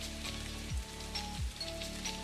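Steady rain makes a continuous loud hiss throughout, with low tonal electronic sounds sweeping over it.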